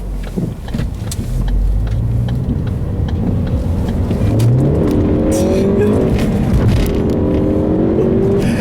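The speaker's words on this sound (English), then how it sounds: "you might have noticed a little bit of wheel spin there whenever I was accelerating" A turbocharged 2013 Ford Focus ST engine of 250 horsepower revs hard and climbs through gears, with a rising whine and a brief tire squeal from wheel spin on a back road, loud and close.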